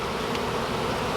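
Bees hum steadily around a cut yucca tree, a dense, even buzz close to the recorder with no talking.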